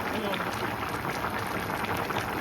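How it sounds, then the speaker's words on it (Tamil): Mutton bubbles as it boils in water in a pot for a Jaffna-style curry, a loud, close and continuous seething hiss with a voice faintly underneath. "மட்டன் அவிய அவிய கீழே இறங்கின போது தண்ணி வந்து பெரிய வருது பாருங்க"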